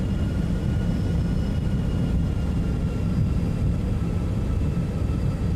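Propeller aircraft engine rumbling steadily as it throttles up while taxiing uphill in X-Plane 12, a continuous loud low drone with faint tonal whine above, no talk.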